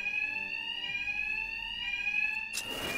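A bank alarm in Batman: Arkham Knight rings steadily, a loud, sustained high electronic tone with a rattling buzz. A short burst of noise cuts in near the end.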